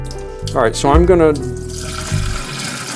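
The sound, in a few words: water being poured out into a sink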